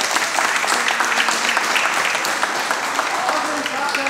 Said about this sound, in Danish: Og så en stor klapsalve til alle de fantastiske unger,